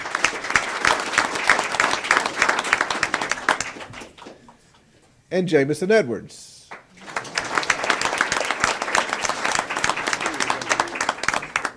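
An audience at a school board meeting claps in long, dense bursts, broken in the middle by a brief spoken name announcement, then resumes with sustained applause.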